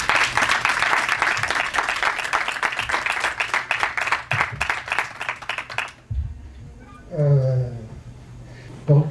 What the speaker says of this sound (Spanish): nuevamente un aplauso para el director que nos acompaña esta tarde